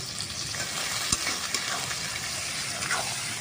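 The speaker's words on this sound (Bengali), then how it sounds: "ঝিনুকটা পেঁয়াজের সাথে আমি আবার ভালো করে ভেজে নেব" Clams fry with browned onions in a pan, giving a loud, dense, continuous sizzle close up, with a few spatula scrapes and taps heard briefly over it and no speech.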